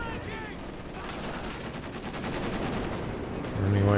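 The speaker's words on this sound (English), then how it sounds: "Big damage from the LMG Grenadier in the house." Sustained machine gun fire from an LMG Grenadier squad holed up in a house during a Company of Heroes 2 match, a dense steady rattle of gunshots that swells louder toward the end of the burst.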